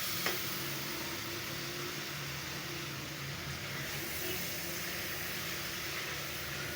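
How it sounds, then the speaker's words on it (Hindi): Chickpeas fry with turmeric and salt in a pan, giving a soft, steady sizzle that holds evenly throughout, faint and close, with one small click near the start and no voices. "इसको अच्छी तरह भूनना है"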